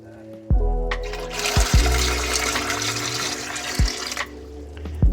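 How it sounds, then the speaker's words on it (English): Water pours steadily into a pressure canner for several seconds, a loud splashing rush that starts abruptly and cuts off, with a few dull knocks of the pot around it. "I'm adding in my 3 inches of water"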